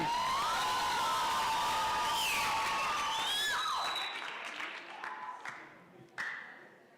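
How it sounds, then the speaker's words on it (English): Audience at a children's summit in Kenya applauding with cheering and high excited shouts and whoops, loud and dense at first, then tapering off into scattered claps and a final burst. "A round of applause for the lovely lady."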